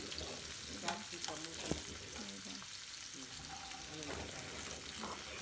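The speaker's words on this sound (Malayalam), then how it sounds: "ഞാനിവിടെ ഇപ്പം ക്യാപ്സിക്കവും പച്ചമുളകും ആഡ് ചെയ്ത് കൊടുത്തിട്ടുണ്ട് എന്നിട്ട് നന്നായിട്ടൊന്ന് മിക്സ് ചെയ്ത് കൊടുക്കണം" Capsicum and green chillies fry in a pan for broken wheat upma, with a steady close sizzle and repeated scraping stir strokes. Faint talk sits in the background.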